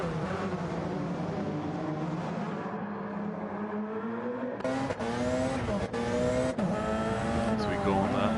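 Race cars in Gran Turismo 7 roar past with rising and falling engine notes and brief tire squeals, loud and close, under a commentator's voice.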